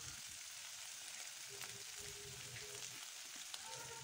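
Chopped onions fry with cumin seeds in a pan for a rohu fish do pyaza, a steady soft sizzle continuing without pause, with faint stirring knocks and small pops scattered through it and no voices.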